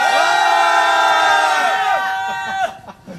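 A large crowd at an outdoor candlelight rally in Seongju lets out one loud, sustained collective shout, holding steady for over two seconds before breaking off into scattered voices.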